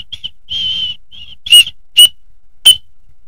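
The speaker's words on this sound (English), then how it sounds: "Oh, it's got a whistle." The small whistle from a survival kit gives a shrill, steady tone, first in a few soft trial toots and then in three sharp, loud blasts spaced a moment apart. Each blast is close and piercing.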